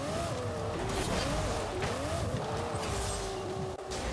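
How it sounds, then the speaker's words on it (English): A Porsche 959 races in Forza Horizon, its engine note rising and falling through gear changes with steady high-revving drone, tire noise and passing cars around it, loud and continuous. "The 959 is very fast."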